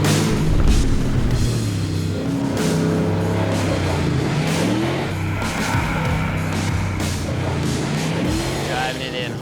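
Off-road racing truck on a dirt track, its engine revving and swelling in loud, shifting pitch sweeps as it is driven hard and whipped around, with speech mixed in over the motor.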